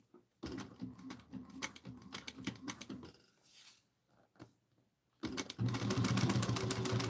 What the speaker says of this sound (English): Okay, we're going to sew 1/4 of an inch.